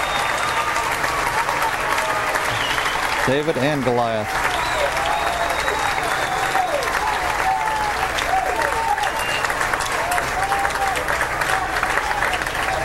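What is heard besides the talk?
golf gallery applause at PGA Championship playoff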